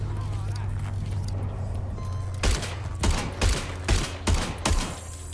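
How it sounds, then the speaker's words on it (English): Automatic gunfire fires at robots in Watch Dogs: Legion, a run of sharp loud bursts in quick succession over a steady background hum during the second half, with talk under it. "Shoot at robots to overheat them"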